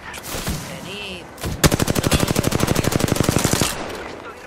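Rapid automatic gunfire in Apex Legends: a steady burst of about twenty evenly spaced shots, loud and close, after a few seconds of quieter in-game sound.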